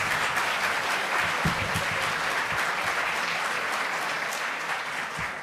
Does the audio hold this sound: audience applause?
yes